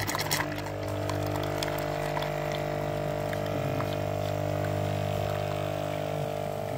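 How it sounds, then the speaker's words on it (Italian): A Lavazza A Modo Mio Jolie capsule coffee machine runs a long water cycle while descaling, a steady pump hum and tonal drone with water flowing into a glass, starting after a brief click and continuing evenly. "andiamo a premere questo tasto dove farò uscire il caffè più lungo, quindi più acqua"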